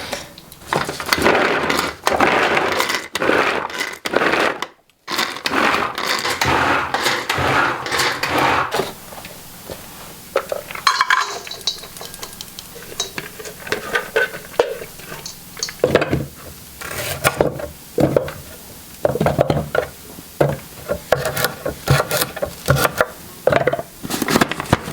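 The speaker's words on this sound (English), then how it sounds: "I'm going to just start chopping everything up really good." Apples and carrots are chopped by hand with a knife, a rapid run of sharp, close knocks against a cutting board with brief pauses between bursts, continuing alone throughout.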